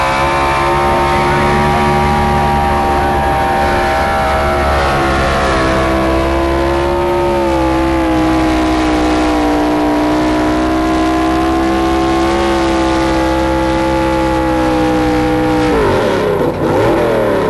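A big tractor-pull engine, a 2.4-ton limited modified class tractor, roars steadily at high revs, its deep droning pitch holding and slowly rising, then shifting abruptly near the end.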